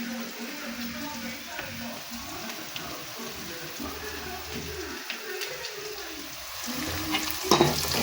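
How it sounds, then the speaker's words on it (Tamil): Onions sautéing in oil for a Tamil sundakkai kuzhambu, a soft steady sizzle and crackle with occasional stirring scrapes, fairly quiet and close. "வெங்காயம் பொன்னிறமாக வதங்கிச்சு."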